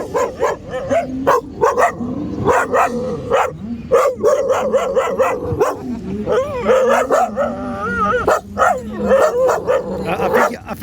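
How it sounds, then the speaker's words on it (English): Several dogs bark and yip excitedly in a rapid, overlapping string of sharp barks, loud and close, with whimpering between bursts. "Sorry, my dogs were just about to go nuts."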